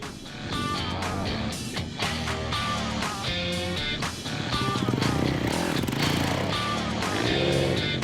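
Several rally motorcycles rev and roar together as they set off at the M'Hamid Express 2016 rally, a loud, dense, continuous blare that swells slightly toward the end.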